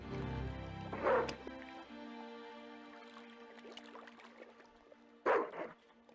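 A dog in Broken Sword 2: The Smoking Mirror Remastered gives two loud, close barking bursts several seconds apart, with soft whimpering noises in between.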